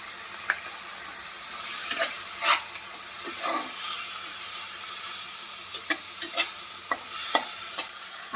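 Chopped fish with spices, salt and turmeric frying in a pan, a continuous hiss of hot oil broken by repeated clicks and scrapes of a spatula stirring, close and steady with no voices.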